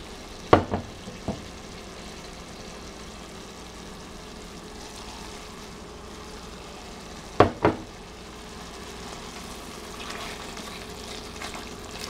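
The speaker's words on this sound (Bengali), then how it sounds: "এখন আমি মাছটা অ্যাড করে দেব" Soft kajoli fish fried in oil for a curry, a constant moderate sizzle with a couple of sharper clatters and bursts early on and again midway, no voices.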